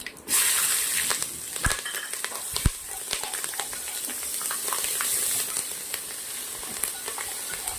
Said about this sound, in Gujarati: મસ્ત તેલના અંદર શેકી લેવાના છે આ વઘારને